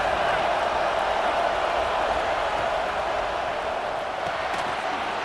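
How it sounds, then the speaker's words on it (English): A large stadium crowd in a college football video game roars steadily with a dense, continuous wash of cheering and murmur, loud and unbroken throughout. "Listen to the crowd energy here in the early going."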